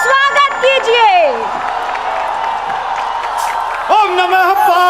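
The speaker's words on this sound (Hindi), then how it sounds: "जोरदार तालियों के साथ डॉक्टर कुमार विश्वास का स्टेज पर स्वागत कीजिए" Audience at a Varanasi kavi sammelan applauding to welcome Dr Kumar Vishwas on stage: a steady wash of clapping and crowd noise lasting a few seconds, with an amplified voice speaking before and after.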